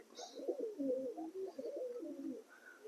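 Giribaz pigeons coo in a loft, producing low, throaty, rolling calls that repeat steadily and close by with no talking.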